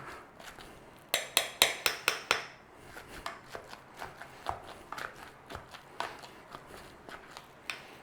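Potatoes being mashed in a bowl make a run of close, soft, squelchy thumps, first a quick regular series and then irregular taps and presses, with no talking.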